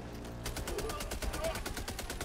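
Rapid bursts of shotgun fire against swarming bugs in the video game Helldivers 2, dense and continuous over mixed game effects and chatter.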